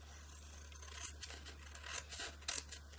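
Scissors trim a journalling card made from old book pages. A few faint, quiet snips and paper rustles sit over a low steady hum.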